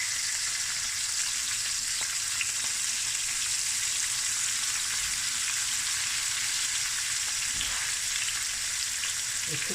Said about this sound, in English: Now I'm going to fry this until golden and flip it over